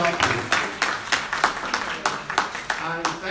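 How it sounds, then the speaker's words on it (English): Sparse, distinct claps from a small audience at a political forum for African, Afro-Caribbean and Asian women, honouring Kate Osamu, with roughly a dozen separate claps in an uneven rhythm and some voices murmuring beneath. "Please give her a round of applause."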